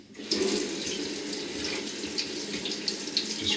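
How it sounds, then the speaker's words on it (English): Tap water runs into a sink to rinse record-cleaning solution off a vinyl record: a steady, close splashing stream with small bright spatters, constant throughout. "So I rinse off the record cleaning solution."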